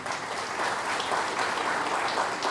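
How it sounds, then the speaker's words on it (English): An orientation audience claps in a dense, steady round of applause that fills the whole stretch evenly at moderate loudness. "I think this calls for a huge round of applause"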